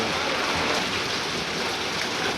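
Heavy rain driven by wind pours down in a dense, steady hiss, loud and continuous throughout with no voices.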